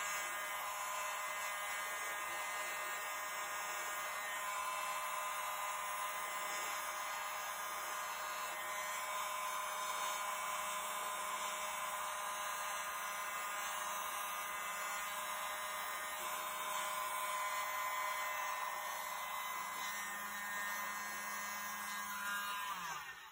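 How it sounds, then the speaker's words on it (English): A steady, continuous high-pitched whine of a small electric blower running nonstop at constant speed, used on acrylic paint, with no pauses and no talking. "I have a little bit better control with this little blower than I do with my big hair dryer."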